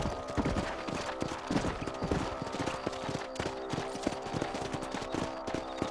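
Horse hooves clip-clop at a steady gallop in the Red Dead Redemption game, a continuous rhythmic drumming of hoof beats at moderate loudness with a faint background bed.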